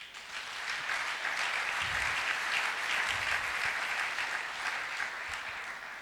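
A church congregation claps together in sustained applause to acclaim the Lord, a dense, even wash of many hands that holds steady for several seconds before easing slightly, with no speech over it.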